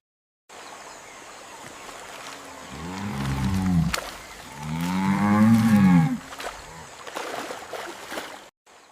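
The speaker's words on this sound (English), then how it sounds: "The cow stands here." A cow in an AI-generated farm scene gives two long, low moos in succession, loud and near, over a soft bed of running water, with no speech.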